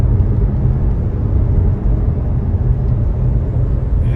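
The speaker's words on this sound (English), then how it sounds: "It's a lot of traffic" Road traffic heard from inside a moving car heading into Pigeon Forge and Sevierville: a loud, steady low rumble of the cabin and tires on pavement, continuous and unbroken, with no talking.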